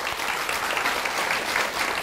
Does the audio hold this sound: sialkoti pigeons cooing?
no